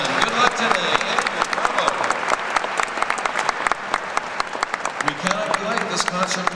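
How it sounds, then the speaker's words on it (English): Concert hall audience at Heinz Hall applauding guest conductor Andrew Johnson, sustained crowd clapping with sharp individual claps standing out, while voices talk faintly underneath. "Will you give a nice round of applause for our guest maestro,"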